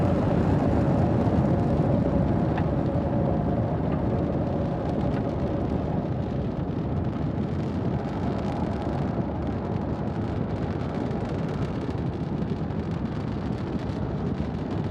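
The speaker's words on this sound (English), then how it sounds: "Falcon 9 has successfully lifted off from Pad 40 at Cape Canaveral Space Force Station" A SpaceX Falcon 9 rocket lifting off from Pad 40 at Cape Canaveral Space Force Station, a loud, continuous broadband roar with deep crackling rumble that holds steady, heard from a distance without talk.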